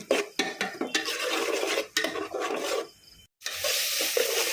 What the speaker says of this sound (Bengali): যেহেতু রসুন আর আদা দিছি মশলাটা ভালোভাবে কষাই করব